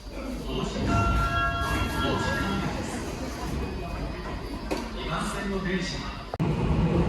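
Japanese metro train on an almost empty December 30 service, a low rumble and hum from the carriage with brief squeals, a thump near the end, and faint background voices.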